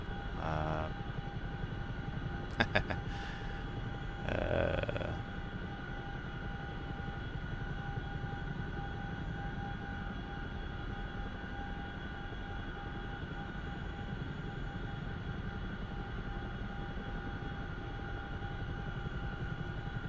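A steady, droning rotor and engine hum continues throughout from a CH-47F Chinook helicopter in flight in the DCS flight simulator, with a couple of brief clicks and bursts early on.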